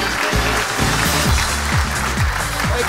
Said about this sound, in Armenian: Այս ծափահարությունները ձեզ սրտանց։